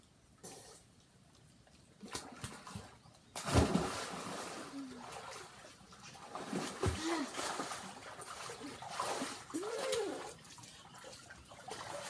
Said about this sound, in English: We're gonna do a cannonball competition.